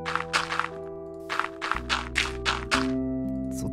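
Blocks placed one after another to fill a creeper explosion crater in Minecraft give a string of soft thunks, loud and close, over steady background music.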